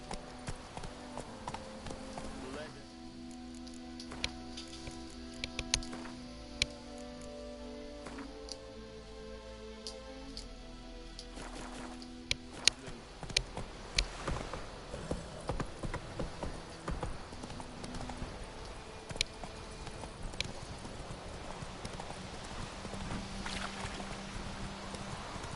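Hooves of Roach, the horse in The Witcher, clip-clop in a quick, steady rhythm, clear and moderately close, with wind, faint game ambience and a soft musical tone early on; no clear speech.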